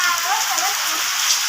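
Heavy rain falling, a dense steady hiss of downpour close by with no gaps.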